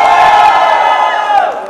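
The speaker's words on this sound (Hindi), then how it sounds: "पहले वो लोग चिल्ला के दिखाएंगे" Wedding sangeet audience at the Westin Hyderabad shouting and cheering together, a loud sustained crowd roar with whoops that holds steady and tails off slightly at the end.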